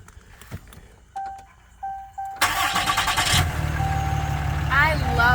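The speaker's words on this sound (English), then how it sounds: "You can hear the engine inside." A few faint clicks and short beeps, then a Ram pickup truck engine cranks and catches, settling into a steady idle heard from inside the cab, with a brief voice over it.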